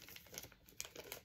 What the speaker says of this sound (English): I can take them out of the plastic